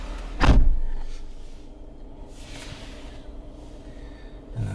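Door of a 2015 Jeep Wrangler Unlimited Sahara opening, a single sharp latch clunk near the start, then a quiet hum of the vehicle settling, with a faint second click at the end.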